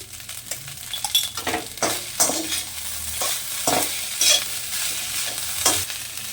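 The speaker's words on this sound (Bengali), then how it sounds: "এখন আমি দিয়ে দেব ঘি।" Ghee going into a hot pan, followed by steady stirring with a spoon scraping the metal and a sharp frying sizzle, rhythmic clinks and scrapes close by with no talking.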